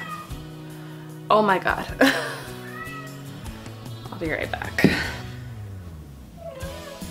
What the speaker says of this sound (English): Oh, this cat.